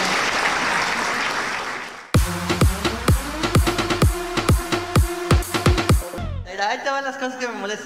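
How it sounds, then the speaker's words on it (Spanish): Applause from a stand-up comedy audience fades out after about two seconds, then a voice takes over, speaking in short rhythmic phrases. "El aplauso, pues es un aplauso chingón"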